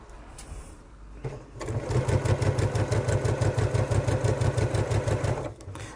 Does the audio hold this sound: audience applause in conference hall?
no